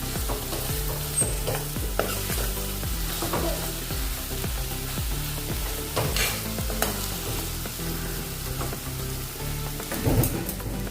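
Methi matar sabzi stirred and pressed with a spoon in a hot pan, with steady sizzling and a run of repeated scraping strokes, near and fairly loud, with no talking.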